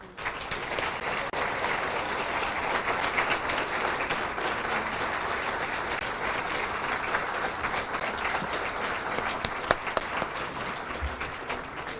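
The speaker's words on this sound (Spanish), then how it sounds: "quiero pedir un gran aplauso" Sustained audience applause in a university lecture hall, a dense, even wash of many hands clapping that holds steady throughout.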